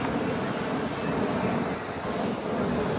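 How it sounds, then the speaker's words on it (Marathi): A fixed-wing airplane passes overhead near an airport by Juhu beach, a steady broad roar with rumbling low end and wind buffeting, loud and continuous throughout with no talk. "आवाज पण किती विमानाचा येतो, जाम आवाज येतो"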